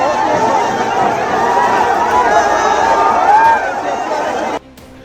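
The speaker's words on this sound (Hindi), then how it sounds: "पटना की सड़क पर प्रदर्शन और तिरंगे से पटी ये भीड़" A protest crowd packs a Patna street under tricolour flags, a dense, continuous hubbub of many voices and chatter heard close, with shouts rising in the middle before the noise suddenly drops away near the end.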